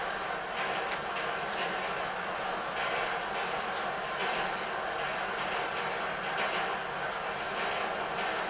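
A train in GTA V rolls along on rails with steady broadband rumble and repeated clickety-clack ticks, loud and continuous throughout.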